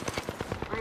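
Rapid automatic gunfire from the video game Apex Legends, a steady burst of about seven evenly spaced shots over under a second, close and punchy.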